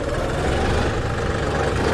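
A John Deere 5210 Gear Pro 4WD 50 hp tractor runs in C gear, its engine a steady, loud, low rumble with constant vibration and no break.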